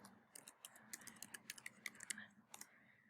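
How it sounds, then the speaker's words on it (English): Quiet, irregular keystrokes on a computer keyboard as login details are entered, a loose run of light clicks with short pauses between them. "You'll type in your user ID, your password."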